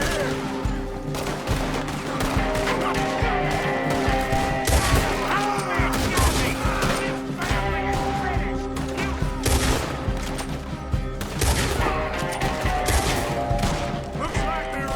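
Gunfire in Red Dead Redemption 2, a loud, dense fusillade of overlapping shots and rapid bursts that runs without a break across a busy battle soundscape.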